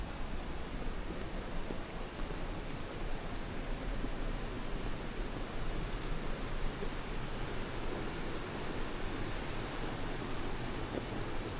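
A waterfall pouring into the sea on the South Korean coast, with waves: a continuous, even rush of falling and churning water that fills the scene without a break.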